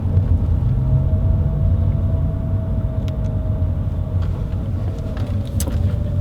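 A Mazda RX-8 engine hums steadily with low road rumble, the sound of slow driving through a tight car park heard from inside the vehicle, with a faint high whine.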